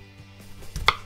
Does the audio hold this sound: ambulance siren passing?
no